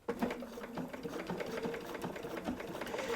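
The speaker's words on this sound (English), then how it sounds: "now we're ready to sew" A sewing machine stitches fabric for a quilt block with the stitch length set to 2.0, a close, steady rapid whirring and clatter that runs throughout without pause.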